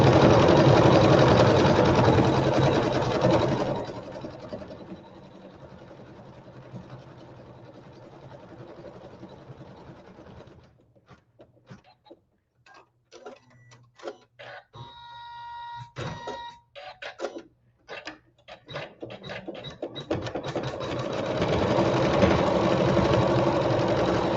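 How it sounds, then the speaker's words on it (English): A sewing machine stitches placement lines for a lattice blossoms quilt block, a fast rapid-fire rattle of needle strokes in the middle, flanked by louder steady broadband noise at the start and end, with no speech. "And this is just sewing the placement stitching for our blossoms that we will place later."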